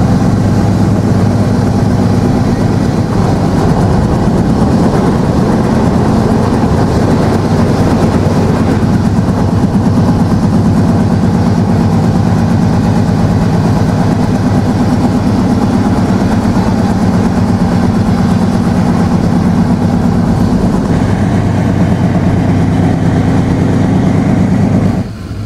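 Jahanabad Express passenger train running at high speed past Jamdia station, a loud, continuous rumble and rattle of wheels and carriages with steady engine drone throughout, heard from on board.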